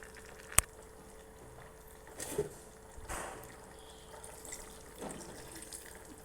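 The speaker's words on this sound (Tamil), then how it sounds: "இன்னும் கொஞ்சம் தண்ணி ஊற்றிக்கிறேன்." A sharp clink, then short splashes of water being poured into a pan of bitter gourd fry in a few brief bursts, close by over a low hum.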